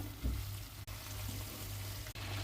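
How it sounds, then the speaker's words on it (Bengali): Hilsa fish pieces sautéing with spice paste in a hot pan give a steady, close frying sizzle that runs continuously, with a couple of brief pauses where stirring shifts the pan. "এখন আমি মশলার সাথে মাছগুলো ভালো করে কষায় নিব"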